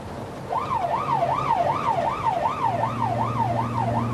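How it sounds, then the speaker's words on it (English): Ambulance siren on an emergency call, a loud wailing tone rising and falling in steady repeated sweeps over traffic and engine rumble. "Can you see the blue light flashing and hear the siren?"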